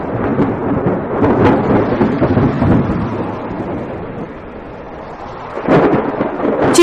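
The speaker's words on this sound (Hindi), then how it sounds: "उनके लिए यह पहली बारिश थी जो उन्हें किसी अजूबे से कम नहीं लग रही थी।" Steady rain pours down with deep rumbles of thunder rolling through, a louder crack arriving near the end; no voices.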